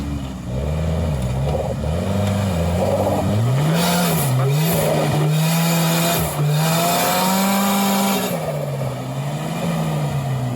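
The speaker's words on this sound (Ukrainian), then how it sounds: "Так, пошла первая машина, скрывается секция." A drift race car at an RFC Grand Final event in Malaysia roars through a section, the engine revving hard in rising and falling sweeps with tire squeal, loud and close throughout.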